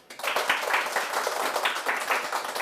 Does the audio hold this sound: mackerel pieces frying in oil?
no